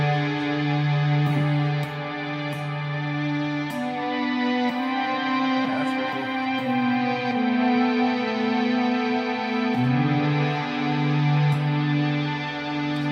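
A sustained synthesizer tone from a Meris Enzo X synth pedal, thick layered harmonics with echoing shifts in pitch, playing continuously with no voices.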